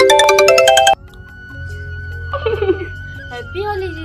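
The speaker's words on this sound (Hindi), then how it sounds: "शिफाली जी का फोन आ रहा है।" A phone ringtone plays loudly in a repeating melodic burst for about a second, then stops; a low hum and faint voices follow, with a brief chirpy sound later.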